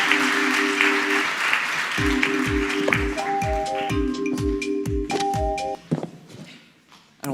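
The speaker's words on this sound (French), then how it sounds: "On peut les applaudir" Audience applause at a Paris student-media debate on ecology held at Sciences Po, a dense, sustained wash of many hands clapping for about six seconds with scattered sharp taps and tones over it, then fading out near the end.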